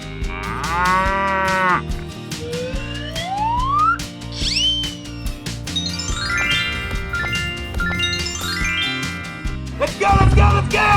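A cartoonish cow moos repeatedly in a 3D animal sliding video game: several long, bending, pitch-sliding calls, loud and close, with bright chimes and whistle-like game effects around them and a burst of noise at the end.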